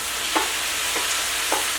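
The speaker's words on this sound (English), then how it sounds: "my fajitas been frying for 10 minutes" Shrimp fajitas sizzle steadily in a hot pan with a constant hiss, broken by three soft stirring scrapes spaced evenly apart, heard up close with no voices.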